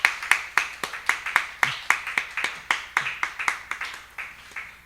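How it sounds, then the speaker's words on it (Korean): A church congregation at a Sunday worship service claps to encourage the children who led it, sharp close claps landing in a quick, regular beat, about three per second, that keeps its pace for several seconds. "다시 한번 격려와 축복의 박수"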